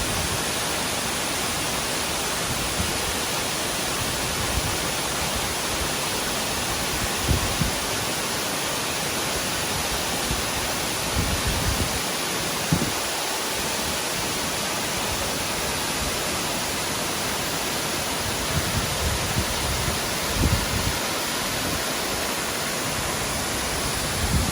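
Steady, loud roar of a waterfall pouring down a rocky slope, continuous broadband rush heard up close and unbroken for the whole stretch, with no voices.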